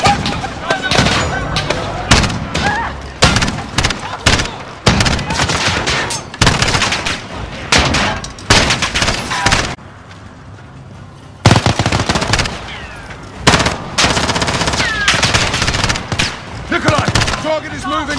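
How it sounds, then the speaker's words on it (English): Rapid gunfire bursts and single shots from Call of Duty Modern Warfare (2019), loud and near, in dense volleys with a short lull midway before firing resumes. "The gunshots, of course."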